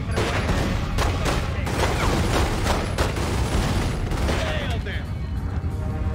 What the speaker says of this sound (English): Like just the sounds of bullet impacts.